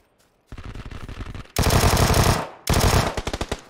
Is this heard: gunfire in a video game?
yes